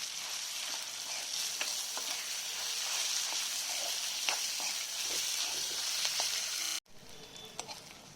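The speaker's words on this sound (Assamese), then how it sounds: "এইখিনি ভালকৈ ভাজি ল'ম" Steady, close sizzling of grated potato frying in a pan, with occasional soft scrapes and stirs; the sizzle drops away sharply near the end, leaving a quieter hiss.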